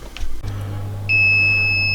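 An incubator thermostat gives a single steady electronic beep that starts and holds continuously over a low mains hum, clear and close.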